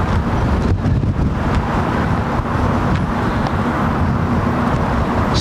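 Blustery wind buffeting an outdoor microphone beside a runway at London Heathrow, a loud continuous low rumble with gusty surges and no speech.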